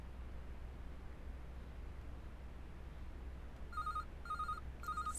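A mobile phone rings in the Die drei ??? Ruf der Trolle video game, three short electronic ring bursts near the end after quiet background hum, with no speech.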